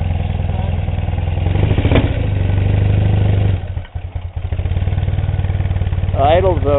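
A motorcycle engine idles steadily after startup, a loud, close, continuous low rumble that briefly dips and falters midway before settling back, with a short voice-like whine near the end.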